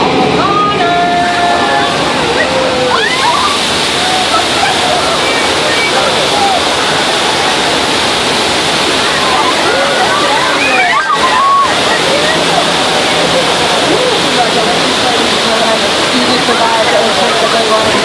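Flood water special effect on a Universal Studios soundstage set, a loud, continuous rush and slosh of gushing water with splashes throughout, and a crowd voice briefly heard under the roar.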